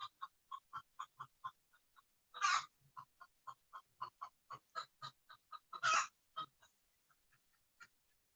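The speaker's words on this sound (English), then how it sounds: "my chickens shut up just as that all ended" Backyard chickens cluck in a steady string of short clucks, with two louder squawking bursts breaking in, fairly close and clear with no talking.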